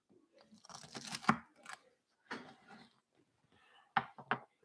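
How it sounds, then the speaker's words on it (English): A knife cuts open a crispy, flaky ube pie, giving crackling, crunchy bursts as the crust breaks, with short sharp crunches toward the end, close and fairly loud. "let's take our knife and let's cut it open."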